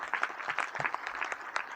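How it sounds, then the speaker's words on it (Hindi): An audience at a religious discourse gathering applauds the stage host with steady, brisk clapping that lasts throughout, moderately loud with no speech. "आप लोग जोरदार ताली बजा करके अभिनंदन"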